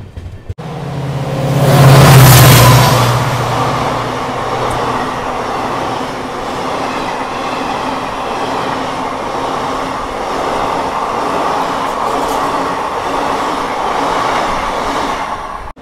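Passenger train on the Bengaluru–Hubballi main line approaching Chikka Bhanuvara railway station, a loud rumbling run with a brief rising whine and whoosh early on, then steady rolling wheel noise and rattling carriages.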